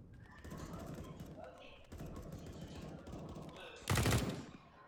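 Rifle fire from a CS:GO match crackles in rapid bursts under a caster's commentary, then a louder, sharper volley near the end stands out above the talking.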